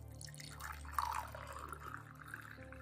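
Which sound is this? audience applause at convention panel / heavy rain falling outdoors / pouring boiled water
pouring boiled water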